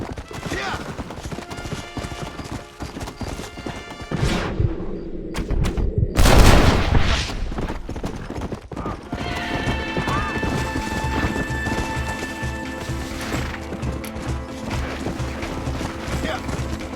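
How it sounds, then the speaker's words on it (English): Horse hooves clip-clop steadily in Red Dead Redemption, with a loud crash midway, a horse whinnying and gunfire mixed in, while someone shouts over the action. "Please steal my horse!"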